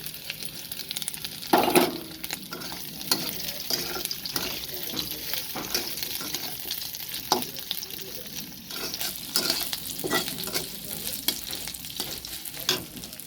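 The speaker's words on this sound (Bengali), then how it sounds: "তারপরে চিংড়ি মাছটা দেব। চিংড়ি মাছ দিয়ে দিলাম।" Shrimp hit a pan of browned onions for a water spinach dish, giving a continuous close sizzle with spatula stirring and scraping and a few louder crackling bursts.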